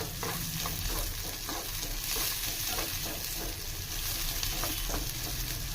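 Onion and three crushed garlic cloves fry in a tempering for an urad dal chutney, giving a close, continuous sizzle with repeated stirring scrapes and no talking.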